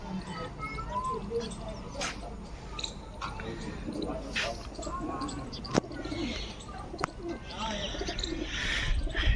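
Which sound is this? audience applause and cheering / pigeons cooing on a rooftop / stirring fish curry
pigeons cooing on a rooftop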